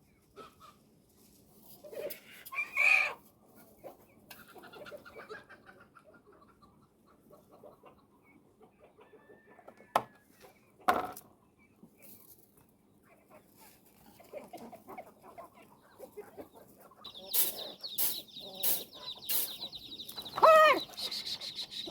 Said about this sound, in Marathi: सगळ्या कोंबड्या आल्याच